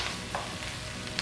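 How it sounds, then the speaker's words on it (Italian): Black kale leaves frying in a pan with melting anchovy and shallot give a close, steady sizzle with faint stirring, no voices. "Ora che l'acciuga si sta sciogliendo e lo scalogno sta cominciando a imbiondirsi, vado ad aggiungere le nostre foglie di cavolo nero."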